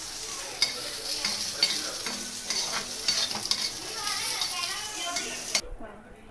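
Onions frying in a pan at home, a dense close sizzle under repeated scraping stir strokes, the hiss cutting off abruptly near the end.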